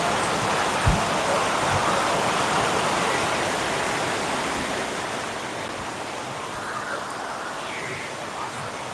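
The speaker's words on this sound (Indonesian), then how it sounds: "karena di luar lagi hujan beb" Rain falls outside as a steady, even hiss of dense drops, continuous and moderately loud for the whole stretch, fading slightly toward the end, with no talk over it.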